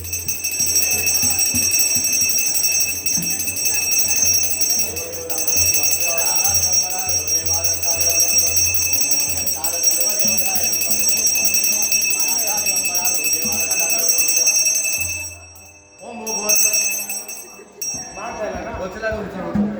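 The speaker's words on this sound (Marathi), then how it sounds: "हा घंटा वाजवतो" A hand bell is rung over and over at a Shimga village festival in Mondtar, Devgad, its bright metallic clang carrying on continuously while several people talk loudly nearby.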